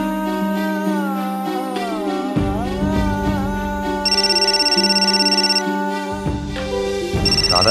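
A telephone rings insistently with a repeating electronic ringtone, loud and close, continuing for several seconds with no one speaking over it.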